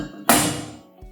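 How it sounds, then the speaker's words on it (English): A single solid metallic thud rings briefly as a Rexarc calcium drier canister drops into place on the bottom canister, followed by a faint softer knock. "Hear how that solidly hits on the bottom?"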